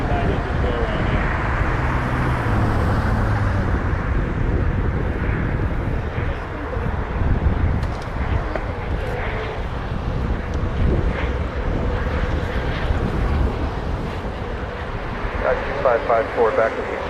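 A United Boeing 737-900 airliner taking off at Toronto Pearson airport, a sustained loud broadband jet roar filling the scene, with voices heard over it.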